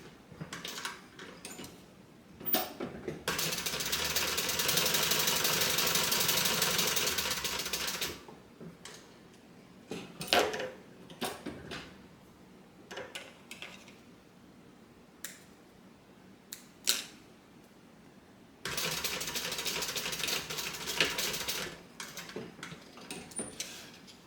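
A sewing machine stitches the short edges of a fabric bag, two sustained whirring runs of rapid needle chatter separated by clicks, taps and handling noises of adjusting the fabric.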